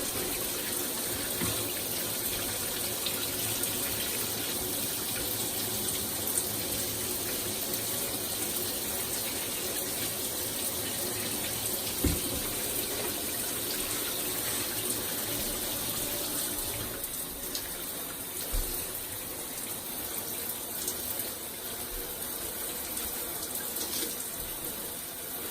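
Steady running tap water pours continuously while box braids are washed, a broadband wash holding at an even level for the whole stretch with no voices over it.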